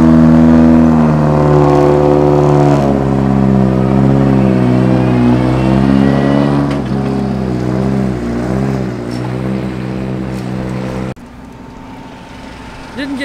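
A Subaru rallycross car at a Red Bull Global Rallycross event in Memphis, its engine droning steadily with rising and falling pitch, fairly close, then cutting off abruptly near the end, with crowd and background noise underneath.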